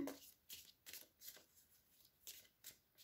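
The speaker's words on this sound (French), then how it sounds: "on va mélanger les cartes" Oracle cards are shuffled by hand in quick soft riffling bursts, about seven brief close swishes spread evenly, quiet and without talk.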